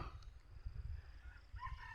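A rooster crows among chickens on a rural mixed farm in Thailand, the crow faint and somewhat distant over low background rumble, rising briefly near the end.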